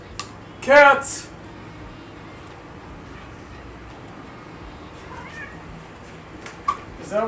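A cat outside the door meows loudly a couple of times early on, then fainter mews follow over low steady background noise, with a person talking at moments.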